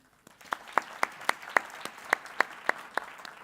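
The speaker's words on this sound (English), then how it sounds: "So if we can have a round of applause for them." A small group claps in a steady rhythm, about a dozen distinct claps over a few seconds, nearby with little else underneath.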